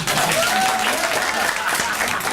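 An audience at a 2014 poetry slam breaks into clapping as the host returns to the stage after the scores are read, a thick, continuous burst of applause throughout.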